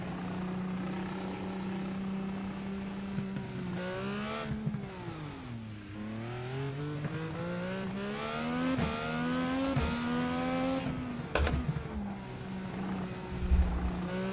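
A reworked race car engine from the sim racing game iRacing drones steadily, its pitch dipping and rising as the revs fall and climb, with occasional sharp shift clicks. No talking.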